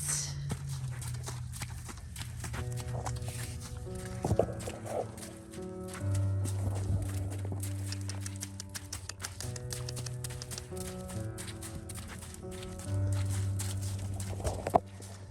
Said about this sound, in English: Kind of trot, little trot. In the mud.